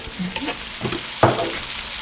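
Spices and ginger sizzle in a hot pan, a brief crackling hiss with light stirring clinks and one sharper burst, close by with no talking.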